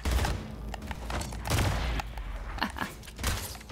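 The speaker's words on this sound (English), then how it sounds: "Someone's shooting at me." Gunfire bursts from the Splitgate shooter video game, with several dense, loud volleys crackling in quick succession alongside mechanical clicks and clatter, with no voices.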